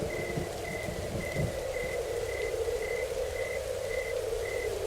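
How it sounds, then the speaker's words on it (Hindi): Soft, steady patter of light rain under a repeating high chirp, like frogs or insects calling at a regular beat. "हल्की हल्की बारिश शुरू हो गई"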